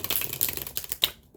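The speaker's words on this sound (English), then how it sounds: "one more riffle shuffle and then we read" Tarot cards riffle-shuffled by hand, a quick close burst of crisp fluttering clicks ending in a soft snap.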